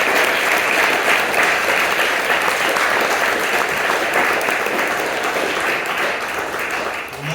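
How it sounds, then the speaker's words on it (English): A forum audience at Heritage Church claps for Hickman County sheriff candidates, giving sustained, dense applause at steady volume for about seven seconds. The clapping tapers slightly at the very end. "how about a round of applause for these guys?"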